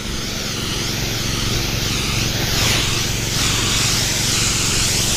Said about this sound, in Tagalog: Power spray ulit.